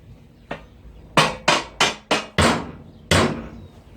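Six sharp metallic hammer strikes ring out close by while fitting a motorcycle trailer axle pin and yoke, the first few in quick succession, then a short pause before a final blow.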